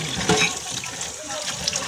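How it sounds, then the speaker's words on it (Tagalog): A kitchen tap runs water into a sink in a steady, moderately loud hiss with faint splashing, continuous throughout with no talk. "Bukas yung gripo namin."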